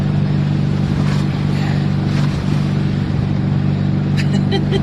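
A VW Fastback car drives on packed snow in Florida, its engine holding a steady drone with faint rumbling from the tires sliding beneath it, heard from inside with no talk.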